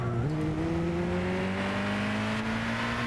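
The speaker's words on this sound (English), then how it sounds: "So it is a GT500 car, and it sounds exactly the way I remember it on Gran Turismo 5 back in the day" A Nissan GT-R Calsonic GT500 race car engine in a video game racer: a strong, buzzy engine note that climbs steadily in pitch as the car accelerates, loud and continuous, with no voices.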